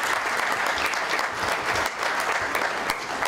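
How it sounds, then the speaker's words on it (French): Audience at the closing speech of the Bamako Forum breaks into sustained applause, many hands clapping in a dense, even roar without speech over it. "Je vous demande vraiment de l'applaudir."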